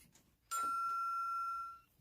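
A sound machine plays a doorbell effect: one clear electronic chime strikes and rings out for about a second before fading, alone over a quiet background.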